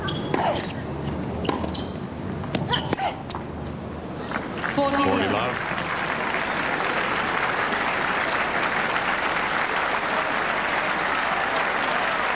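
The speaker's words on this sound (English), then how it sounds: "Crowd will erupt here if Kimberly Poe wins this game." A tennis crowd at the 1995 Canadian Ladies singles match breaks into loud, sustained applause and cheering after a won game, following a few scattered claps and a ball sound, with commentators talking underneath.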